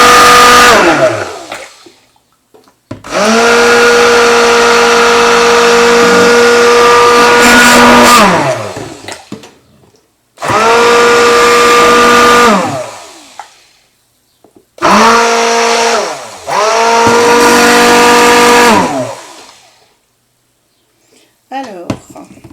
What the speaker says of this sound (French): je vais redonner un coup de mixeur